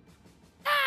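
A single harsh crow caw from the Kasugai crow in the Demon Slayer anime bursts out loud and close at the very end after near silence.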